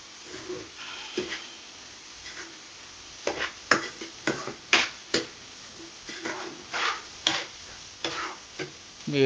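Mango pickle is stirred with masala in a bowl, producing a series of soft, irregular clicking and scraping taps from the utensil, close and fairly quiet, with no talking.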